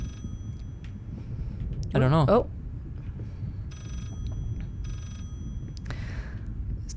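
An old telephone rings inside the horror video game Layers of Fear as a short burst of warbling bell-like trills. It is fairly clear against a steady low hum, and voices talk quietly around it.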